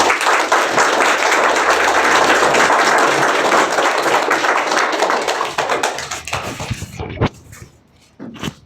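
An audience at a Knowledge Hub event in Khunti claps loudly for a speaker, a dense burst of applause that holds strong, then tapers off into scattered claps and a few voices.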